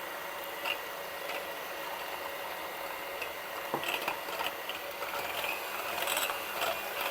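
Eggs being whisked with sugar and vanilla extract into a stiff foam for a classic honey cake: a steady, continuous mechanical whirring with faint rattling runs throughout, close and unbroken, with no talk.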